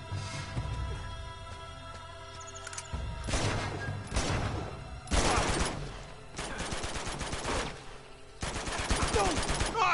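Bursts of automatic gunfire in the video game Uncharted 2 Remastered, several rapid volleys separated by short pauses over a low game soundtrack, loud and close.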